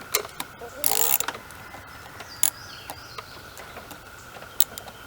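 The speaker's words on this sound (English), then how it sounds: "Then we're going to take the ratchet" A hand ratchet tightens raspberry trellis cables outdoors, giving a brief burst of rapid clicking followed by a few isolated sharp clicks against a quiet background with faint birdsong.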